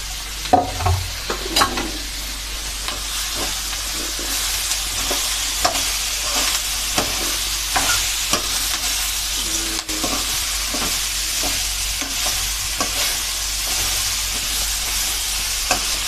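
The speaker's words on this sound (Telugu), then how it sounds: "ఇప్పుడు క్యాబేజ్ వేస్తున్నా సన్నం దరిగి పెట్టుకున్నాను" Thinly sliced cabbage curry being stir-fried in a pan gives a continuous loud sizzle, broken by scraping stirs of a utensil against the pan. No voices are heard.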